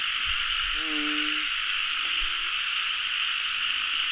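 Night frogs in a rice field give a drawn-out, buzzy croak followed by a softer shorter one, set against a steady shrill chorus of insects and a few faint knocks.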